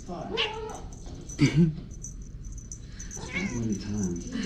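A pet cat meows in a few short, close cries, one louder pair near the middle, between quieter stretches of indoor background.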